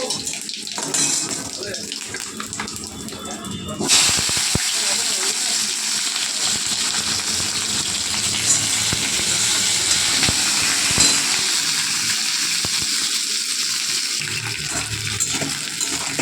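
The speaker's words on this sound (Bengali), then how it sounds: "তেলটা গরম হয়ে গেছে, আমি একটু জিরে ফোড়ন দিয়ে দিলাম।" Cumin seeds tempering in hot oil in a pan, a loud continuous hiss and crackle that jumps in intensity partway through and then stays steady up close.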